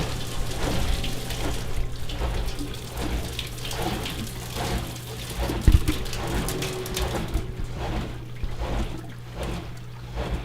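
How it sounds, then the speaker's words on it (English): A garbage disposal macerator pump in a Digesterponics system running and pumping water, a steady low motor hum under irregular sloshing and trickling water, fairly quiet and close. "the garbage disposal macerator pump again, just to make sure. You can hear that it's running and actively pumping the water"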